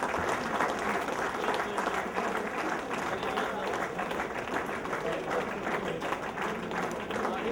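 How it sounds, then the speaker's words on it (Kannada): Sustained audience applause continues at an honouring ceremony for Sangolli Rayanna's descendants, thick, even clapping from a large crowd with a speaker's voice carrying over it. "ಚಪ್ಪಾಳೆ ನಿಲ್ಲಿಸಬಾರದು, ಇನ್ನ ಸನ್ಮಾನ ಮುಗಿದಿಲ್ಲ"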